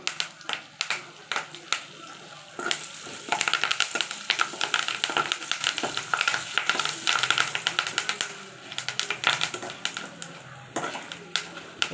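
Mustard-seed tempering splutters in hot oil with curry leaves, a dense run of sharp pops and crackles that thickens through the middle, with a voice speaking briefly beneath it.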